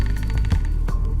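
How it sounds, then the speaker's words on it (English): Simulated engine loop in Wwise with a random distortion effect applied, playing as a steady, loud low rumble with crackling, broken-up bursts scattered through it, heard alone. "What you're hearing is the distortion."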